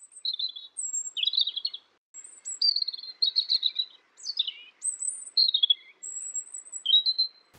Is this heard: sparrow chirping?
yes